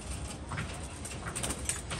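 A pigeon coos softly in a few low, rounded calls over a steady background hum, close but faint.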